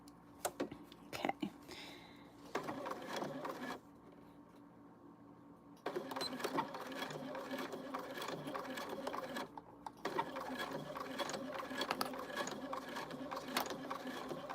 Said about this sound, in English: And we're just going to top stitch all the way around.